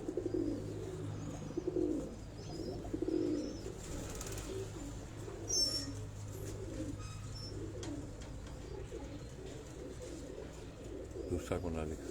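Teddy Ferozpuri cross breeder pigeons coo in soft, repeated throaty bursts close by, over a low background hum, with a faint voice and occasional light bird chirps.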